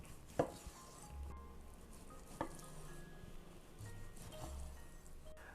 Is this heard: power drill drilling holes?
no